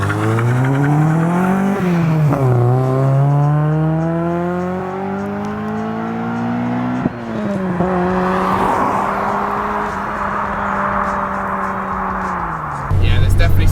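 A Honda Civic Type R EP3 accelerates hard through the gears on a 0-60 run, its engine climbing in pitch in long sweeps with clear gear-change drops, loud and close throughout with no speech.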